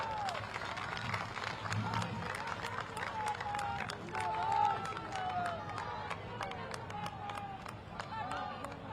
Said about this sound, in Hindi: एक बार सब लोग आप बहनों के लिए ताली बजा दीजिए।